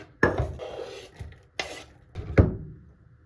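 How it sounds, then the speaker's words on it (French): Chopped onion dropped into a saucepan: a few close clattering knocks of a utensil against the pot, sharp and separated, with a soft scrape between them. "je vais le mettre dans une casserole."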